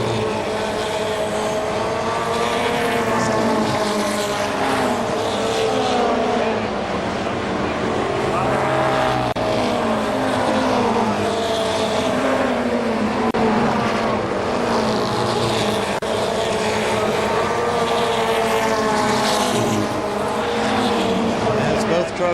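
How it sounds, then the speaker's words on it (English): Racing trucks roar around an oval speedway at KilKare Speedway, a continuous loud blend of engines rising and falling as they circle, with a commentator talking over the noise throughout. "As both trucks go around the 9 of Stan Maitland."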